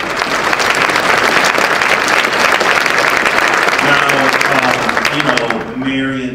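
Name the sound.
audience applause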